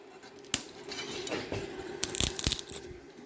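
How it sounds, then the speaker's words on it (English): A kitchen knife pressed down on garlic cloves on a cutting board while cooking teriyaki chicken, giving a few sharp, close knocks and crunching clicks over a quiet room hum. "And now I'm going to crush the garlic."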